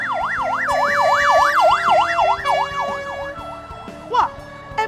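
An emergency ambulance siren wails in a fast rising-and-falling pattern, loud and fairly close, then fades somewhat amid traffic sounds and light thumps.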